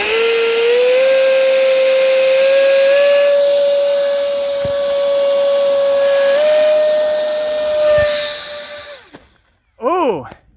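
A 70 mm 11-blade electric ducted fan on an RC jet, powered by a 4-cell battery, whines loudly and steadily with a slight pitch rise, then cuts off abruptly near the end as a short burst of voices or chirps follows.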